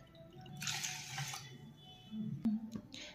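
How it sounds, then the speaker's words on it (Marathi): Water poured into a pot of washed dal and rice while making dal khichdi, a steady splashing pour with a gurgle partway through and a short final trickle, close and fairly soft with no talk. "तर यामध्ये मी पाणी टाकून घेतलेलं आहे।"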